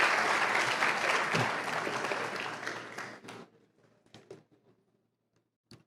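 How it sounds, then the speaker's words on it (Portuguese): Full audience applause at a Portuguese-language talk, a dense wash of clapping that holds for about three seconds, then thins abruptly to a few scattered late claps before silence. "Uma salva de palmas para toda a interpretação do Felipe"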